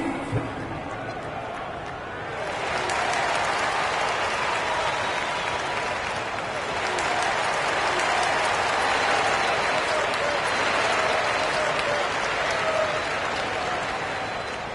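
An arena crowd in the NBA 2K26 basketball video game applauds and cheers during a timeout, a sustained, fairly loud roar of clapping that swells after the first couple of seconds and holds steady.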